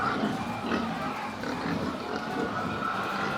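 Fattening pigs on a farm grunt and oink in a steady, close chorus, the overlapping low snorts continuing without pause throughout.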